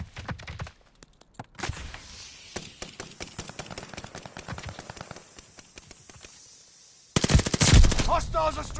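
Rapid machine-gun strafing rattles through a video game battle, with bursts of sharp, evenly spaced shots over several seconds and a louder, denser volley of impacts near the end, and no one speaking.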